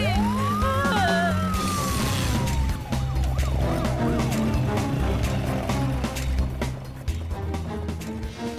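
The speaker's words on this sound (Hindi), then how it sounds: "अरे मनी, तुमने दो एम्बुलेंस को फोन किया था क्या?" An ambulance's wailing siren sweeps up and then slowly falls, sounding close and loud over a steady engine rumble and traffic noise.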